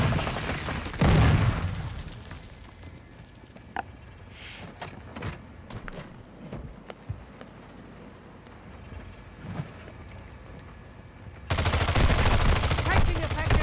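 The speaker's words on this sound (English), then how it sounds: "Taking effective fire!" Gunfire in a shooter video game: scattered sharp shots and bursts at moderate distance, with heavier loud firing near the start and again at the end.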